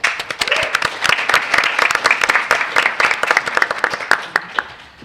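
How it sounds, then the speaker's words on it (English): An audience at a luncheon history panel breaks into a full round of applause, many hands clapping densely and loudly for several seconds and tapering off at the end. "Can we give them a round of applause?"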